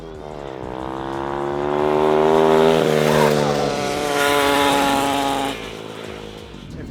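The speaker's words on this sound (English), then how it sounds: "me on the blue bike, one final drag race for all the marbles." Two modified Temu dirt bikes, one upgraded to a 110 engine, drag race with loud, high buzzing engines that rise in pitch as they accelerate together, close by, with no talk.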